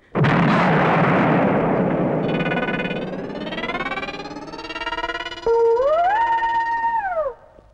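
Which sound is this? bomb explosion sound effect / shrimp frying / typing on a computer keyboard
bomb explosion sound effect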